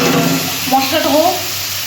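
Chopped tomato and onion fry with salt in a hot pan, a steady close sizzle with soft stirring scrapes and a brief bubbling hiss, while someone speaks lightly over it.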